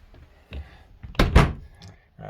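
A camper's storage drawer, roughly 64 inches tall, 18 deep and 16 to 17 wide, slides shut with a single solid thunk in the middle, framed by quieter knocks and handling noise.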